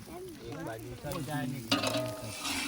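Ginger, garlic and chili paste with green garlic stirred in a pan for a rustic Kathiawadi roasted eggplant dish, a soft sizzle with scraping strokes of a spoon under faint background voices.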